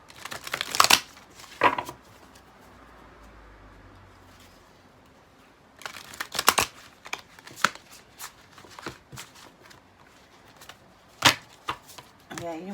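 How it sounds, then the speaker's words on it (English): Tarot cards are shuffled in quick crisp riffling bursts, a pair of sharp flurries, a pause, then a longer run of papery snaps and rustles, close to the ear. "let me give it a few shuffles here"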